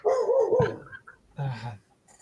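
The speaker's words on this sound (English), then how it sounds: "Stupid dog." A dog gives a couple of short, sharp barks with a whiny, yelping edge, fairly close, in otherwise quiet surroundings.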